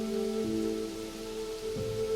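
Steady rain falls on a night-time scene, a constant soft hiss with low tonal hum beneath, no voices.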